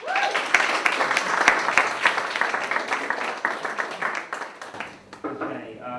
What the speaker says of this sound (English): Round of applause for Roz.